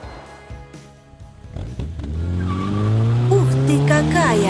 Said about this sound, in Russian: Это раллийная машина.